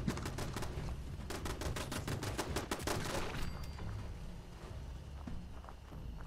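Automated turrets fire in rapid volleys during a Fallout 76 fight, loud bursts of gunfire through the first few seconds that thin out to scattered, quieter shots and ambient noise.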